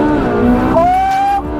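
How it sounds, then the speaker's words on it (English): A Ferrari 458 Speciale's naturally aspirated V8 sings loudly, its harmonic-rich tone climbing in pitch as the car accelerates hard, then dipping briefly near the end. "Listen to this, son. This is a real car. This is what Ferrari's all about."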